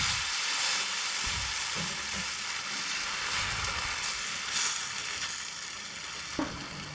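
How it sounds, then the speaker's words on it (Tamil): Wheat, ragi and drumstick leaf dosa batter spreads across a hot oiled griddle, a steady hissing sizzle with faint scraping touches throughout and a slight fade toward the end. "தோசைக்கல்லை சூடு பண்ணிவிட்டு அதில் எண்ணெய் தடவிட்டு நம்ம வந்து ஒரு கரண்டி மாவு எடுத்து இப்படி சுற்றி ஊற்றிக்கலாம்"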